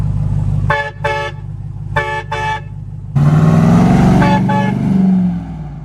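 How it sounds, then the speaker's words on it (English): Four short horn blasts in two pairs ring out over the rumbling engine of a 2021 Ram TRX pickup, then a long, loud compressor-fed train horn blast sweeps in and holds. "We put a really nice train horn on it with the compressor"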